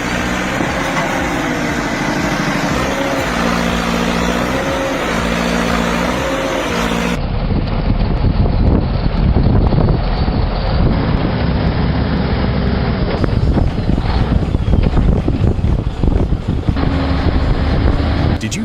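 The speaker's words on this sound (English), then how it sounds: "The Massey Ferguson 265 tractor really takes a beating here, but refuses to quit against such a stubborn root system." A Massey Ferguson 265 tractor strains against a stubborn tree root system, its engine holding a loud, heavy, continuous rumble that grows rougher and more labored partway through, with no talking.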